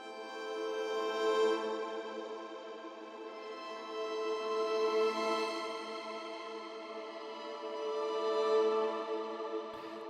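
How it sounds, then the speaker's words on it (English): Fracture Sounds Blueprint textural violins sample plays a sustained, shimmering string texture, swelling and easing in slow waves across the whole passage with no voices over it. "one of my favorites for the Blueprint series is their textural violins"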